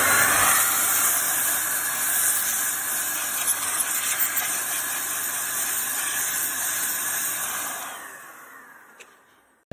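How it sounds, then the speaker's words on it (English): Air blown into an empty desktop CPU socket during a budget PC build, a steady, loud, close hiss lasting about eight seconds before it tapers off and stops. "to just blow some air into the socket"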